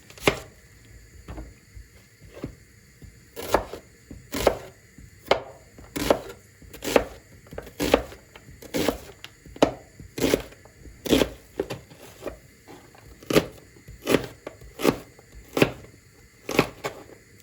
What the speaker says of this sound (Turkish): Ve dört baş soğanım var doğrayacağım şimdi.